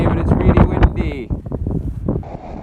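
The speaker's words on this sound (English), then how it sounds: "It's so windy!" Strong wind buffeting a microphone outdoors in southern Iceland, loud rumbling gusts that come and go while a voice talks over them.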